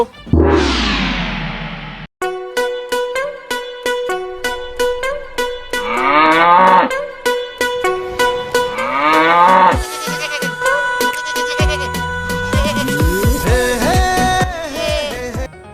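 Cattle moo at a Qurbani cattle market in a comedic scene, giving loud, close, drawn-out calls that rise and fall one after another. A layered tonal backdrop with sharp clicks runs beneath them.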